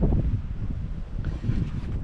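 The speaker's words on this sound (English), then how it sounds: "And the wind is blowing," Wind gusts steadily across a goat pasture, buffeting the microphone with low rumbling noise throughout and nothing else standing out.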